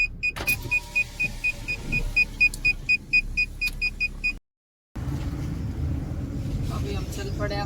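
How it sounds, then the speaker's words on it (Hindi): A Maruti Suzuki Swift on the road gives a steady engine and tyre rumble, with a run of rhythmic beeps and clicks early on, a brief dropout, then continuous close driving noise. "अभी हम चल पड़े अपनी स्विफ्ट में घर से"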